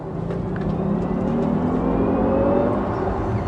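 Jaguar I-Pace electric car pulling hard out of a roundabout, with a rising electric whine over steady road and tire roar heard from inside the cabin.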